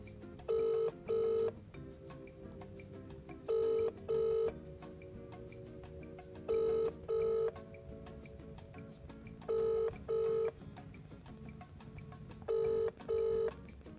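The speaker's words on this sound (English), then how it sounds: "I'm trying his mobile now" A telephone rings out while calling a dad's mobile: five pairs of electronic ring bursts at steady intervals, clear and close over a faint hum, with no talking.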